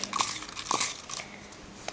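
Paper raffle tickets crinkle and rustle in a few quick bursts, close up, as the small slips are shuffled by hand.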